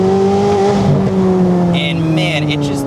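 A Corvette C8 Z06 with a full titanium exhaust pulls hard from inside the cabin, its engine note rising in a loud steady drone with a brief change near a shift, while a voice talks over it.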